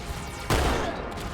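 Shotgun blasts fired in the video game Halo 2, a sudden loud booming burst with a rough, reverberant tail, standing alone without talk.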